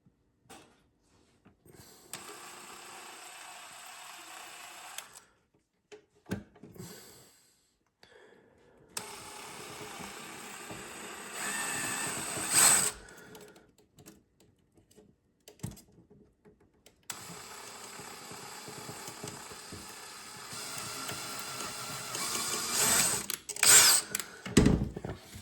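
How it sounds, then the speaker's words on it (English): A drill bores through the plastic dome light housing of a 2014 Ram 2500 Laramie in three separate bursts of whirring grind, each a few seconds long, with quiet gaps between and a sharper rise near the end of each run. "So now you can see, just drilled that out there."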